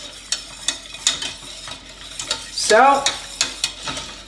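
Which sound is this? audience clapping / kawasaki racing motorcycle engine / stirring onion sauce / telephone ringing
stirring onion sauce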